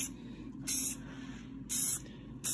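A spray paint can hisses in three short bursts onto an engine valve cover from a Chevy GM Ecotec engine, each burst sharp and close with quiet pauses between them.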